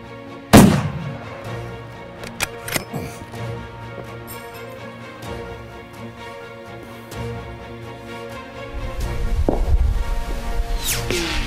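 A single sharp rifle shot cracks out early during a long-range shooting session at extreme distance, with a loud report and rolling echo, followed by quieter handling knocks and a low rumble of wind.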